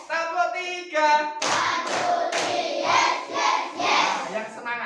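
Schoolchildren in a classroom clap together in a rhythmic group pattern, loud close bursts of clapping following a chanted, sung call from many voices.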